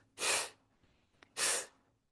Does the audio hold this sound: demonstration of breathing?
yes